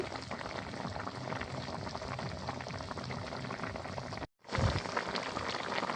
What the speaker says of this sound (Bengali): তো এই যে তরকারি কিন্তু বলক এসে গেছে